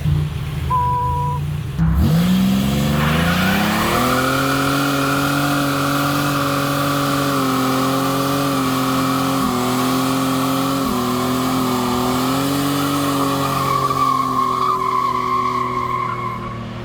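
A Buick Grand National's turbocharged V6 runs steadily at idle after engine repairs, a continuous close, loud drone that steps up and settles near the start, then holds an even, slightly shifting tone with no talking.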